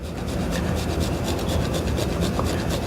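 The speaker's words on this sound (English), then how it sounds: "we're going to grate a little of the Parmesan" A block of Parmigiano Reggiano is rubbed against a grater in quick, even rasping strokes, close and continuous with no voices.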